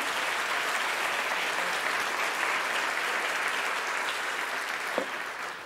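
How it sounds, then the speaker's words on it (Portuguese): A church congregation applauds steadily, a dense even wash of many hands clapping at close range throughout, with no speech over it. "Pode aplaudir o Senhor."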